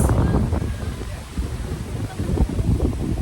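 Strong wind on Boracay buffets the microphone with a constant low roar and rumbling gusts throughout, with no other clear sounds.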